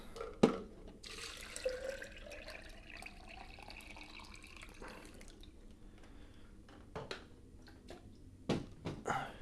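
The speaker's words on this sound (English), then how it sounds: "I'm just gonna fill up my water bottle" Water runs from a tap into a water bottle, a soft, steady gush that rises in pitch as the bottle fills, with a few clunks and handling knocks at the start and end.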